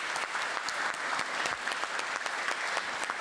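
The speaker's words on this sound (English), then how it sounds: "I would like to ask you for a huge applause for the students" An audience at a student game awards gala applauds steadily, many hands clapping at once in a dense, sustained patter at moderate distance.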